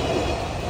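A train pulls into a station in Fukuoka on a rainy day, a steady rumbling wash of rail noise with a constant hiss, heard briefly and up close with no talking.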